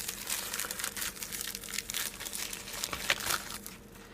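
Parcel packaging being opened by hand, with crinkling and rustling plastic or paper wrap in a steady close-up run of soft crackles and one sharper crunch near the end, no voices.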